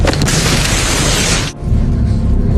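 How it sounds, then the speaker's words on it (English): A grenade explosion blows up an apartment in a film scene: one loud, sustained roaring blast that fills the sound, cuts off sharply, then leaves a heavy rumbling aftermath. "He then tosses the grenade inside, blowing off the apartment."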